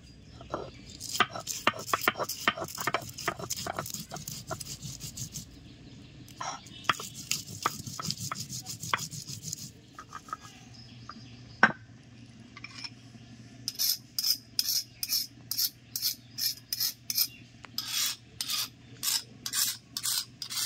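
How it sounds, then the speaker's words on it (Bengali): Green chilies are being ground into a paste on a grinding stone, producing rhythmic scraping strokes in quick repeated bursts, with a short pause midway and a faint low hum underneath. "কয়েকটা কাঁচা লঙ্কাও বেটে নিচ্ছি।"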